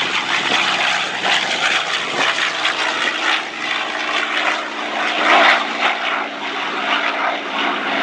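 WW2 F4U Corsair propeller fighter flying a demonstration pass at an airshow, a loud, rough piston-engine roar with fluttering propeller texture that swells and fades slightly as it passes, no voices.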